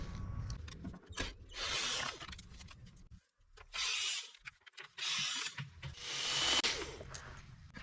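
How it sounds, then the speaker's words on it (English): A ratchet loosens 7mm bolts underneath a 2022/2023 GMC Canyon AT4 pickup, giving four or five close bursts of rapid clicking separated by brief pauses. "I'm gonna say loosen all the 7mm bolts from the bottom."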